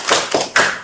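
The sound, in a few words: classroom applause, clapping for a student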